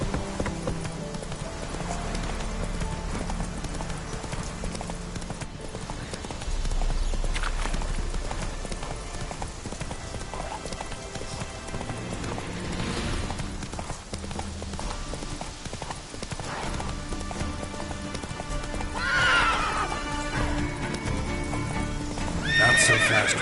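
A horse gallops in the video game The Witcher 3: loud, rapid clip-clop hoofbeats run throughout, with sharp neighs and whinnies breaking through near the middle and the end.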